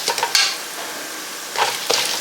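Chana dal frying in hot oil in a pan for coriander rice, a steady close sizzle with a few stirring scrapes near the start and end.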